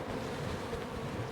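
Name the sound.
bees buzzing around a hive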